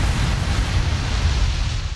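Uranium cargo on a cart blows up in a cart-ride video game, making a dense, roaring blast rumble that stays loud and sustained throughout.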